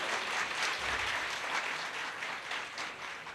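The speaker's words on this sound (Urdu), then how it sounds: "اس بات پہ سب سے اونچی تالی بج رہی ہے۔" Loud, sustained audience applause at a government app inauguration ceremony in Punjab, dense and even throughout with no speech over it.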